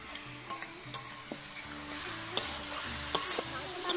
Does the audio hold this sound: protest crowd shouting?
no